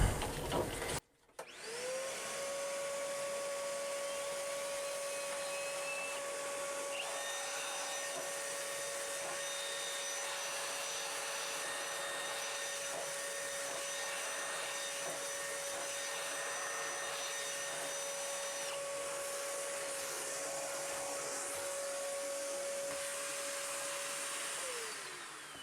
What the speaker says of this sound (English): we'll throw the vacuum on again